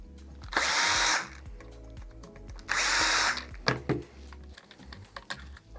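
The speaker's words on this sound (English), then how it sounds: "2 Phillips head screws here that you'll go ahead and loosen to remove the top cup." A power driver loosens Phillips head screws on a GDS Tough Dock, giving two distinct whirring bursts, each about half a second long, followed by clicks and clatter of handling.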